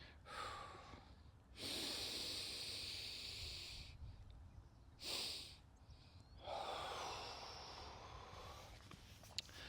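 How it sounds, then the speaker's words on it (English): Deliberate physiological-sigh breathing: a quick double inhale through the nose, then a long hissing exhale through the mouth, repeated in close, airy bursts with quiet pauses between and no talking. "you take a deep breath in through your nose, and then you take a tiny little second breath after holding it for a minute"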